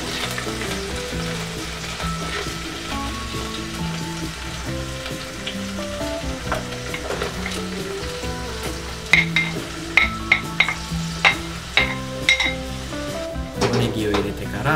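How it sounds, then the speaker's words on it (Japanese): Onions go into a pan for Sri Lankan chicken curry, sizzling loudly, with spoon stirring and clinks against the pan toward the end, over a steady music bed. "玉ねぎを入れます。"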